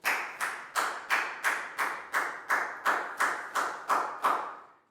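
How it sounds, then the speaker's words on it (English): Children in a Year 4 classroom clap together in a steady round of applause, about a dozen crisp, evenly spaced claps close by, with no talking over them. "High five and a big round of applause for Prau, please, guys."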